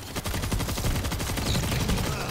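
Rapid, dense gunfire from the zombie shooter World War Z, a loud, continuous barrage of overlapping shots with no pause across the whole stretch.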